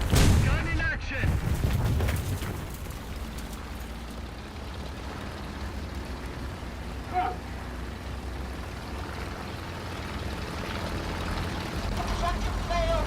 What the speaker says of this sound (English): Gun in action.